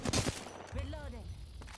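A short burst of gunfire in Apex Legends, a few sharp close shots up front, followed by a quieter stretch where a voice speaks.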